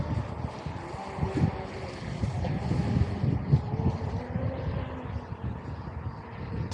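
Blackjack 24 radio-controlled speedboat running on open water: a faint, steady motor drone with water and wind noise, heard from some distance, with no talk.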